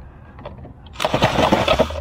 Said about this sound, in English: it's tough drilling a hole